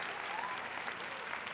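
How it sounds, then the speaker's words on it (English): An audience in a bar applauds a host's entrance at an opening, a steady dense wash of clapping filling the whole moment, with a faint voice underneath. "The audience applauds."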